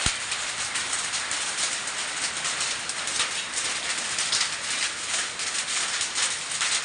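Hailstones pelt a metal sheet roof during a hailstorm with strong wind and heavy rain in Bhoom taluka, Dharashiv district. The dense, even drumming patter is close and continuous, with no voices.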